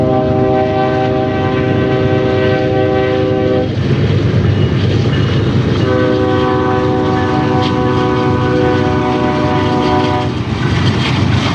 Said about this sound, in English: there's four blasts, two short, or two long, one short, and then one long